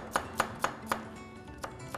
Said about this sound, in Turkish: biraz daha minik minik doğradık